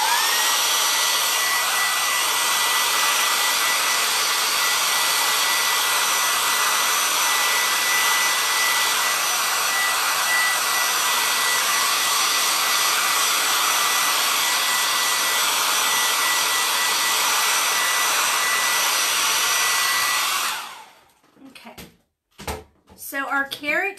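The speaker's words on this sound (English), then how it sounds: "I'm going to use the hairdryer really quick to dry that" A hair dryer blows steadily and loudly on chalkboard paint for about twenty seconds with a constant airy roar, then cuts off abruptly, leaving brief faint handling sounds.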